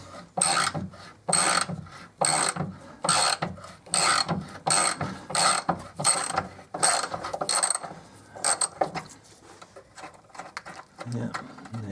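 A ratchet backing a nut off the rear roll bar stud of a 2001 Mercedes SLK, loud close clicking strokes in a steady repeated rhythm that slows and fades near the end, with a voice briefly heard.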